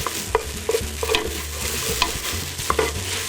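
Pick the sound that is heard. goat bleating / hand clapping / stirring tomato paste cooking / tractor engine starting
stirring tomato paste cooking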